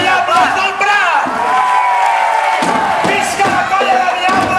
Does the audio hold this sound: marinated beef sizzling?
no